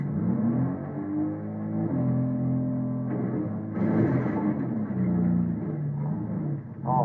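Vehicle engine in Fortnite, a mid-pitched car motor humming and revving with shifting pitch throughout, loud and close, no speech.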